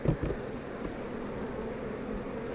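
Honey bees buzz around an outdoor beehive at midday, a faint, steady drone that runs throughout with no voices.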